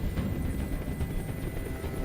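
A helicopter in the video game Detroit: Become Human, heard as a low, continuous rotor rumble with a faint rhythmic chop, moderately distant and without speech.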